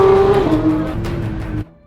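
A Porsche race car is driven fast around a circuit, its loud, close engine note holding steady with shifting pitch before cutting off abruptly near the end.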